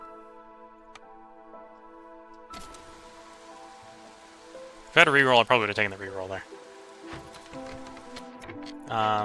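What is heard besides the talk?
drizzle rain in the video game Against the Storm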